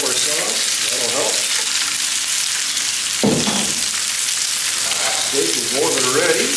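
Steak fajita ingredients fry in olive oil in a hot pan with a loud, constant sizzle and crackle. A single sharp clank of a utensil cuts through midway.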